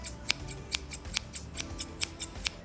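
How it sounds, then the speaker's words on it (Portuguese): Bevelled German-style hairdressing scissors cut in quick, regular snips, about a dozen crisp metallic clicks in under three seconds. The blades sound close and distinct over a quiet background. "É ideal para cortes precisos, só que elas são mais barulhentas."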